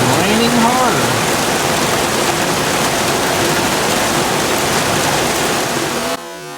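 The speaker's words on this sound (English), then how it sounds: "it is raining harder." Heavy rain pours steadily over a garden, a dense even hiss close by that cuts off abruptly near the end.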